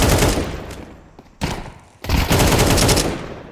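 Automatic rifle fire in Counter-Strike, rapid loud bursts of gunshots with a pause between volleys, close and dense, ending in a long sustained burst.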